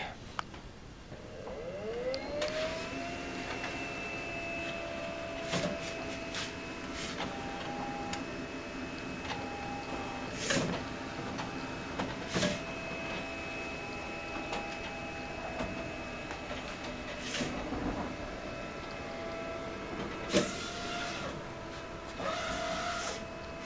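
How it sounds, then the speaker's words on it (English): An HP DesignJet 500ps large-format printer runs a print job, with a steady mechanical whir, a motor tone that rises at the start, and repeated clicks and carriage clunks over about twenty seconds at close range. "let's hit print and let the machine do its work."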